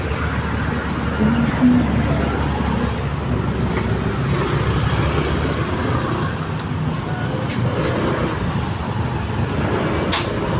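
Heavy, congested road traffic in San Juan forms a dense, continuous wash of engine rumble and tyre noise close by, with scattered faint horn-like tones above it and no clear single vehicle standing out.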